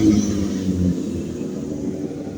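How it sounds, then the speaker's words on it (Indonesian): A loud big Kawasaki ZX636 motorcycle rumbles on a dark street before dawn, a deep engine drone that swells briefly and then eases off as it passes. "ada motor moge yang suaranya sangat keras begitu"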